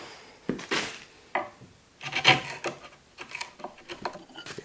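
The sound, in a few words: chisel cleaning up a timber door joint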